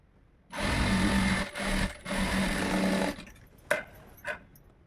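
A sewing machine stitching an embroidered blouse runs in a steady close whir for about two and a half seconds, briefly pausing twice, then stops with a couple of sharp clicks.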